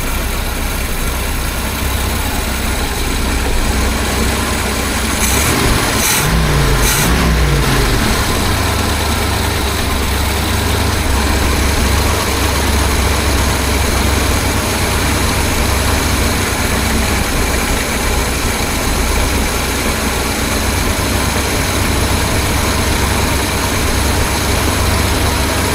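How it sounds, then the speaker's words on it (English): A 1976 BMW 2002 engine idles steadily after carburetor tuning, a loud, continuous low rumble heard up close, with brief mechanical clatter near the start. "setting the idle by ear here with a mixture."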